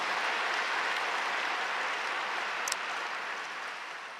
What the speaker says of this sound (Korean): 우리 장영국의 팀에게 감사의 박수를 드립니다